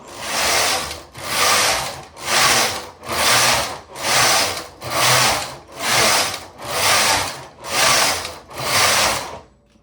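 A knitting machine carriage knits worsted weight yarn at tension 1 in ten even back-and-forth passes, each a loud rasping sweep with a brief pause at the end of the row.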